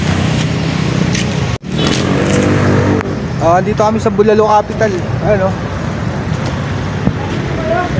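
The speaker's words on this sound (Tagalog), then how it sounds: "Traffic, grabe oh." Road traffic rolls past nearby, with cars and motorcycles droning and revving loudly and without pause, while someone talks over the engine noise.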